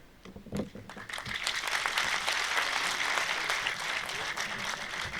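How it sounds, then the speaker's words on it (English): Audience applause at a speech by the President of Azad Jammu and Kashmir, breaking out after a brief onset and swelling into sustained, dense clapping that holds steady and fairly close throughout. "please applaud with full vigor"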